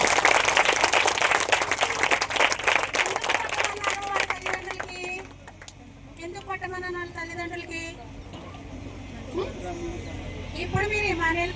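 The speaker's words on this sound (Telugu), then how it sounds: "మనం అందరం గట్టిగా మన కరతాళ ద్వారా చప్పట్లు తెలియజేస్తాం" An audience gives loud applause for a young man's parents at a gathering, a dense burst of clapping that thins out midway, with voices and speech following.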